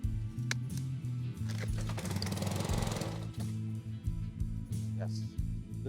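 Ryobi 3100 PSI pressure washer engine running at idle, a close, loud, chugging rhythmic putter that wavers and stutters, with a brief rushing noise in the middle.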